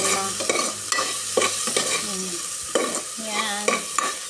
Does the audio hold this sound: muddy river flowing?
no